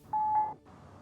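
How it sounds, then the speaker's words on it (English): A strange steady electronic beep in Crusader Kings III, one sustained tone of about half a second with a brief rise in the middle, loud and clear, then giving way to low background music. "It was like a beeping sound."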